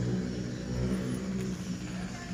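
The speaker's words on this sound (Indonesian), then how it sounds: "Bangke motor lewat ya" A motorbike passes by outdoors, its engine a steady, fairly loud mid-range drone throughout, heard alongside garden work with compost and building sand.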